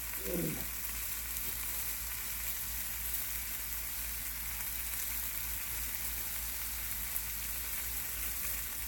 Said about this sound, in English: I'll put them on the griddle to kind of toast that bread a little bit